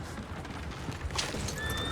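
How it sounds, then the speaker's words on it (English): Horses in the Red Dead Redemption 2 video game, close hooves clopping rapidly at a gallop over a dense background, with a thin whinny rising near the end. "Damn horses!"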